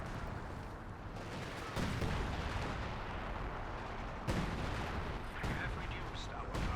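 Artillery shells land in Company of Heroes 2 near anti-tank guns, a series of heavy booming impacts with sharp onsets roughly every two seconds over a rumbling battlefield bed, with a commentator talking throughout.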